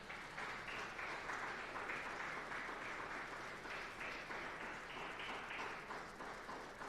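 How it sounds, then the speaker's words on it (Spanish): A church congregation applauds, a steady wash of many hands clapping that continues throughout at moderate, slightly distant level, with no speech over it. "Denle un aplauso al Todopoderoso."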